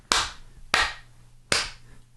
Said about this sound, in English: And then 3 claps.